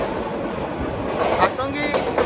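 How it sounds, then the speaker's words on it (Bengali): Agnibina Express train running through Tongi railway junction station without stopping, a steady rumble of wheels on rails heard from inside, with a voice talking over it. "আমরা টঙ্গি স্টেশন অতিক্রম করে যাচ্ছি আমাদের ট্রেনটা কিন্তু থ্রুপথ যাচ্ছে এখানে"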